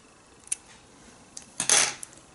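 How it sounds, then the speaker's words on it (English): Scissors snip through the straight ends of synthetic braiding hair, a few light clicks followed by one louder, longer cutting burst close by, with no talking. "Now I'm going to separate all the straight pieces. And just give that a trim."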